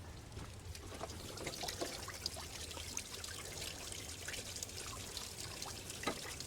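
Water flushes out of a car radiator in a steady, soft trickle and splash that runs unbroken and fairly faint, with small drips and spatters breaking through now and then.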